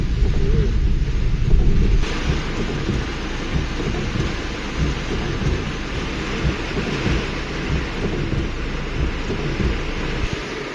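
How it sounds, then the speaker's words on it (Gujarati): Heavy downpour with thunder in Maliya Hatina, a dense steady roar of rain and deep rumbling, loud and constant throughout with no voices. "ત્યારે ધોમ વરસાદ ચાલુ છે, પાણી ભર્યું."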